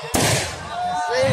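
A firecracker goes off during an outdoor religious sermon for a national santri day gathering, a single sharp pop followed by a short decaying rumble, with a voice talking around it.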